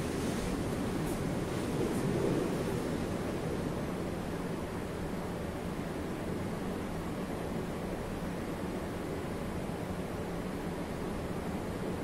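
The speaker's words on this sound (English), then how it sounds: "The emperor's men released water from a dam, flooding the gorge to the east." Water released from a dam floods a gorge, a steady, loud, broad roar of rushing water that holds unbroken for about twelve seconds with no voices.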